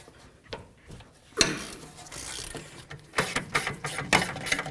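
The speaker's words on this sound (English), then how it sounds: "Now let's remove our two caliper bracket bolts. I'm going to use my 16mm socket." A ratchet with a 16mm socket clicks through several bursts while loosening the rear brake caliper bracket bolts on a 2012-2019 BMW 328i, sharp close ratcheting that comes in quick runs between brief pauses.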